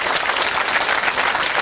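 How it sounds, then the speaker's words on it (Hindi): Students in a law-prep tutorial class clap for a classmate, a dense, steady burst of many hands applauding together, loud and close throughout with no talk. "चलिए ताली बजाइए इस बच्चे के लिए।"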